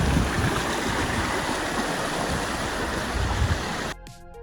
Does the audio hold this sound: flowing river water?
yes